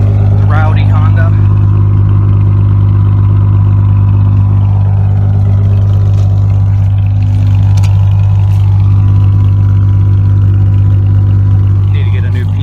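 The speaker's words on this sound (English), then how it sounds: "Side wind exhaust. Rowdy Honda." A 2001-2003 Acura CL with a side exit exhaust idles close by, a loud, steady throbbing drone with faint clatter on top while someone talks over it.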